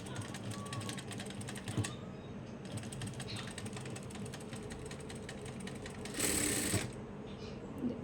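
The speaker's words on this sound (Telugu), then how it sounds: "పెడల్ కంట్రోల్ చేయడం ఇలా కాలు పెట్టి కొంచెం ప్రెస్ చేస్తే" A Jack F4 industrial sewing machine runs under light foot-pedal pressure, giving a close, rapid mechanical chatter of needle strokes with brief pauses and a louder burst near the end.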